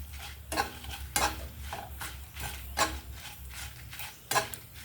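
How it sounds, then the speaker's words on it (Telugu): Whole spices tempering in hot oil in a pan for a Telugu gongura and ridge gourd peel roti chutney, several sharp stirring scrapes and sizzling bursts at irregular intervals over a low steady hum, close and fairly quiet. "ఇప్పుడు ఇవి తిరగమాత వేగిపోవాలండి."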